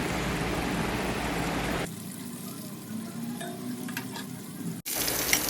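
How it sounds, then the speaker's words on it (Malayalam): Homemade broasted chicken frying in oil over a medium flame, a loud, steady sizzle that drops suddenly to a softer bubbling hiss, then a sharp clack and the sizzle rising again, with no voices. "കുറഞ്ഞ മീഡിയം ഫ്ലെയിമിലിട്ടിട്ട് നല്ല രീതിയിൽ ചിക്കൻ വേവിച്ചെടുക്കണം"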